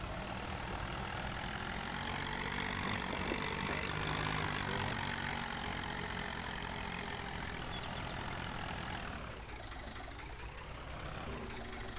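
A tractor engine idles in Farming Simulator 19, a steady, loud drone that runs unbroken and dips briefly near the end before settling back.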